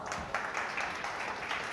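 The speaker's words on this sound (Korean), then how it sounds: "박수 부탁드립니다" Audience applause at a church book talk on Kierkegaard, a steady wash of clapping from a gathered crowd that holds evenly for just under two seconds, moderately loud with no talk over it.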